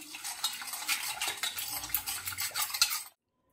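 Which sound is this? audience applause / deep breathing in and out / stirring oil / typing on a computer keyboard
stirring oil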